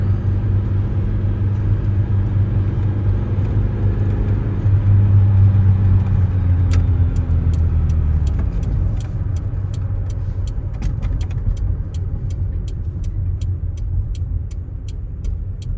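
A 1987 Toyota MR2 with a 1.6-liter inline-four engine drives along, a loud, steady engine drone and road rumble throughout, the tone shifting midway as speed changes, with light clicking over the later part.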